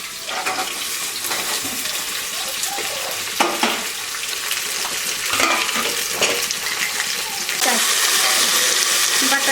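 Chilies and tomatoes fry in a pan with a loud, continuous sizzle and hiss, broken by a few stirring scrapes and growing more intense toward the end, with no talk.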